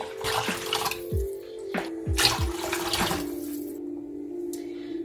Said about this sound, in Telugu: తాలింపు బాగా వేగిన తర్వాత గిన్నెలోకి ఇలా నీళ్ళు పోసుకోవాలి.